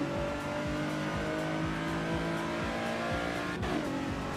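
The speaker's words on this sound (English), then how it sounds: "Mega wheel spin." Race car in Assetto Corsa EVO on cold tyres, engine revving hard with rising tones as the wheels spin and squeal, a loud continuous close-up engine drone throughout.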